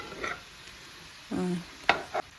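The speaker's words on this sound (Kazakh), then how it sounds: "Барлығын жақсылап араластырамыз." Peppers, onions and vegetables sizzle faintly in a frying pan while a spoon stirs them in short scraping strokes.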